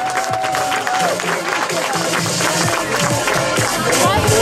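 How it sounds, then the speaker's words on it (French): An audience applauds the three finalists of a zucchini car race at an outdoor event, a steady wash of clapping mixed with crowd chatter and cheering voices running throughout. "peut-être là qu'on pourrait applaudir nos 3 finalistes"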